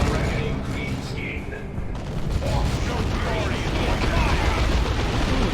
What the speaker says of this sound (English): Big rocket launcher hits.